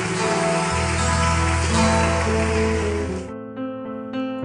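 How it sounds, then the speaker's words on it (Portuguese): A church congregation applauding loudly, a dense wash of clapping that fills the space over sustained organ or keyboard tones, then breaks off into a few scattered claps as the music continues. "Aplauda forte Jesus."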